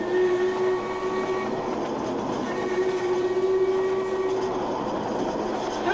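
A passing train sounds a long, steady whistle with sustained tones, over continuous rumbling rail noise, fairly loud and close, near a hillside line beside a salt marsh.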